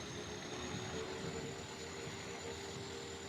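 A tractor engine in the video game Farming Simulator 25 drones steadily with a constant low rumble and a faint whine, continuous and unbroken with no talk.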